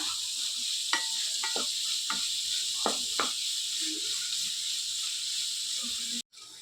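Steady broadband sizzle of masala frying in a pan until golden brown, a continuous hiss with occasional soft stirring clicks, close and moderately loud with no voices.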